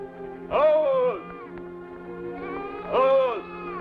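Two drawn-out sheep bleats, close and loud, separated by a pause of a couple of seconds over a quiet background hum.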